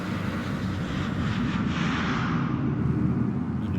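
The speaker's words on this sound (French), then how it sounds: "vous doutez bien que ce Airbus a été volé" A stolen Airbus airliner flying in a video game gives off a constant loud engine roar and rushing wind, steady and unbroken, with no voices over it.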